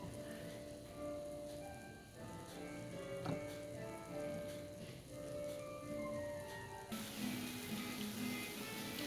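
Soyrizo and beans simmering in a pan, a soft, steady bubbling sizzle with faint crackles, fairly quiet and continuous.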